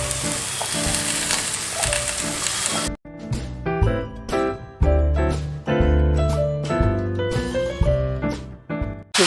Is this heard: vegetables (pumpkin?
yes